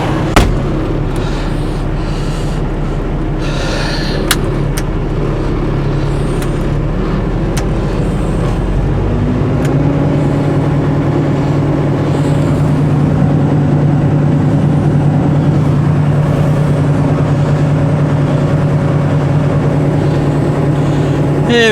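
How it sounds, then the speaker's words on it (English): A semi truck's diesel engine runs at high idle while the air system builds pressure in the trailer's brakes, a steady loud droning hum with a constant low rumble throughout, plus a few faint clicks and knocks. "Yeah, we got the idle up on high."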